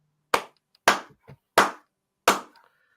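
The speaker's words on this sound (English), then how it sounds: "let's clap for Mason Mount, man." Four crisp, loud hand claps, close up and evenly spaced in a quiet room. A couple of faint small knocks fall between them.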